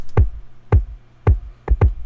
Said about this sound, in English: So that was pretty much it for the kick drum.